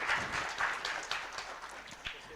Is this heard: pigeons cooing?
no